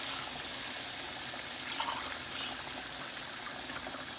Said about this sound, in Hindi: मैंने 2 कप चावल लिए हैं तो हम 4 कप पानी ऐड करेंगे।